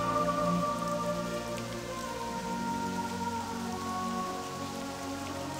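A purifying rain skill from a video game sounds as a steady, even wash of rain pattering on a surface, continuous and fairly close, with no voices.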